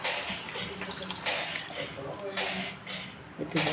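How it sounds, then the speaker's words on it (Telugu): Water pours steadily from a glass into a pot of rice for paneer biryani, eight glasses for four of rice, a continuous splashing wash close by under a person's talking. "నాలుగు గ్లాసులు రైస్ తీసుకున్నాను ఎనిమిది గ్లాసులు వాటర్ వేస్తున్నాను"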